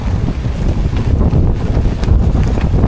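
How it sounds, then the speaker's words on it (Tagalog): Strong wind on Magalawa Island, Zambales, buffets the microphone in a continuous, heavy roar with gusty surges throughout. "Grabe yung lakas ng hangin."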